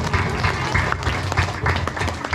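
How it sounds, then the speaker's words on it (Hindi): A hall audience at a foundation day program claps for a speaker on stage, a busy, continuous patter of hands over a low room hum and murmur, fairly close and steady throughout. "एक बार मारूफ भाई के लिए भी जोरदार ताली बजा दें।"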